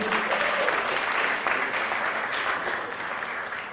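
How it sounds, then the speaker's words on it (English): Big round of applause from the audience at a game launch event, dense continuous clapping that holds steady and fades slightly toward the end. "Can I have a big round of applause please?"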